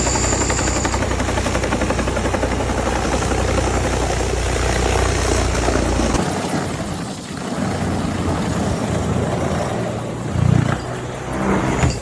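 A helicopter at an outdoor exotic car and helicopter show produces a loud, continuous rotor chop and turbine whine close by, steady for most of the time with a slight dip and swell near the end.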